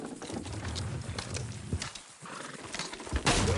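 Horse hooves and a whinny in the Red Dead Redemption 2 video game, with busy clip-clopping and movement noise throughout and a neigh rising near the end, close and loud.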